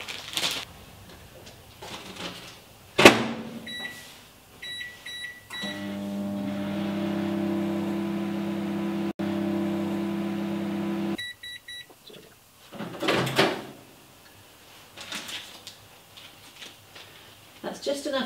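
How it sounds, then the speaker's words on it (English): A microwave oven warms a piping bag of chocolate truffle mixture: a steady, loud hum with tonal drone for about five seconds, bracketed by a door clunk and electronic beeps, with light handling noise after. "So I'm going to put it in the microwave just for 10 seconds for the moment."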